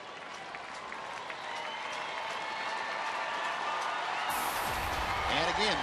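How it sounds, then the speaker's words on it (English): A baseball stadium crowd at a Houston at Texas game makes sustained, swelling noise and cheering, a broad distant roar that builds and stays loud throughout. "the crowd making some noise at the direction of Chuck Morgan"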